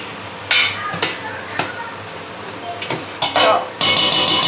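Pork biryani mixed in a pot, with scattered metallic scrapes and sharp clanks of a spoon against the pot, some louder bursts near the end, and faint talk in the background.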